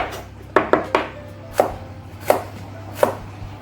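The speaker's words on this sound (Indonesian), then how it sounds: "Dipotong lah agak kecil-kecil gitu supaya nanti di blendernya gampang gitu loh" A knife chops roasted chili and bell pepper into small pieces on a cutting board: about seven crisp, close strikes, a quick cluster of three followed by slower, evenly spaced single cuts.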